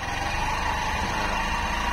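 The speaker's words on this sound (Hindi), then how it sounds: "इंजन की आवाज़ आपको सुना देता हूँ।" Engine of a 2023 Hero Super Splendor motorcycle running at a low, steady speed with a quiet silencer, giving an even, continuous hum with no breaks.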